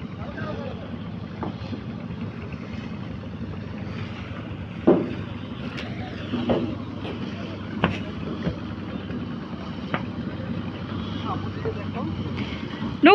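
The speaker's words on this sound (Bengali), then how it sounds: "দেখো নৌকা আসতেছে ওই যে" A boat engine hums low and steady on a river, faint and distant beneath people talking nearby, with occasional knocks and wind.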